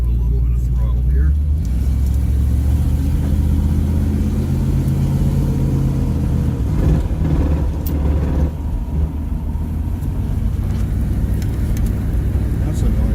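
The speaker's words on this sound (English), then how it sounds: "Okay, we're going to give it a little bit of throttle here." A 1964 Ford Thunderbird engine revving under light throttle during a test drive, a loud, steady low rumble that swells slightly, with people talking inside the car over it.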